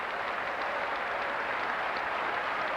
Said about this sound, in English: Big Father's Day crowd enthusiastic early, trying to spur on a Red Sox rally here in the first.